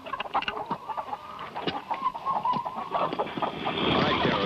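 Chickens at feeding time cluck in a steady, busy chatter from a small flock close by, with scattered higher squawks and a rising rustling noise toward the end.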